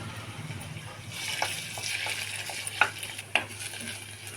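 Tender bamboo shoot shreds stir-frying in a pan of tempering spices, giving a steady close sizzle with a few scraping stirs and soft clatters, no voices.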